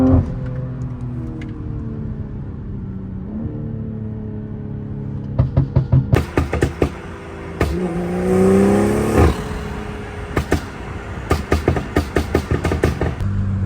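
A BMW M340 accelerates hard, its engine rising through the revs with a gearshift pause, then loud, choppy bursts of revving and clattering as the car is driven aggressively, close and dominant.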